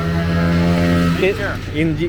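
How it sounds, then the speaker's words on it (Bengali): A three-wheeler engine running on a test at a factory gives a steady, droning mechanical hum. Partway through it is overtaken by someone speaking nearby. "engine testing"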